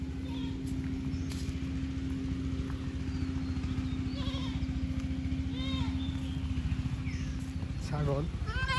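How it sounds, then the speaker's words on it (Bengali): Goats bleat now and then in a riverside village with jute fields, several short wavering calls at moderate distance over a steady engine hum while someone talks. "এখানে আছে ছাগল।"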